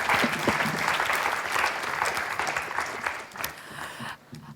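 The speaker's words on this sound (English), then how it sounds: "A round of applause to the hard work of our rapporteurs." Conference audience in a closing session applauds the rapporteurs, a broad, sustained round of clapping from a large hall that holds steady and then thins out near the end.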